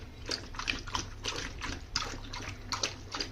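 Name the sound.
animal drinking water from a bucket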